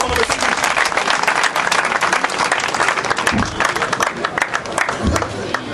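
A crowd at a UDPS political rally in Congo cheers and claps loudly, dense rapid applause mixed with shouting voices and crowd noise, sustained the whole time.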